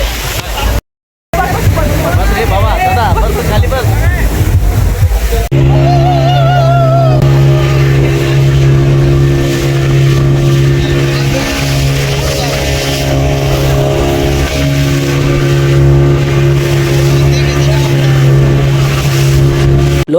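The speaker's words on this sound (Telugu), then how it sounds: "ఈ పడవ కొంచెం సముద్రం లోపలికి తీసుకుపోతుంది" A boat heading out to sea off Goa, its motor giving a loud continuous drone with a strong steady hum, preceded by splashy, sloshing noise and a brief cut, with no clear talk.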